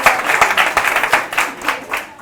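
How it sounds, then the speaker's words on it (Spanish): Audience at a talk breaks into loud applause, dense clapping with sharp individual claps standing out, swelling then thinning toward the end, with a bit of crowd noise mixed in. "Te la has ganado. Un aplauso."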